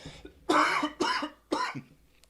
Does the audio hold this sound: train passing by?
no